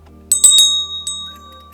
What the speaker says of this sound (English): the sound of this is just going to be a bell